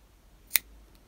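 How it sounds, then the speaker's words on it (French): A single quick snip of scissors cutting yellow yarn during crochet work, sharp and close in an otherwise quiet room. "Je coupe le fil jaune."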